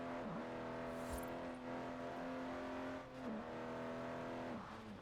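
A Hoonigan RWB Porsche 911 drives in Forza Horizon 4, its engine holding a steady loud drone with brief dips on gear shifts or lifts and a short tire squeal early on.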